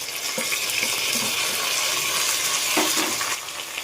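Tomato and carrot fry together in a pan after green chilli and onion, giving a steady, loud sizzle with bursts of stirring and scraping. No one speaks over it.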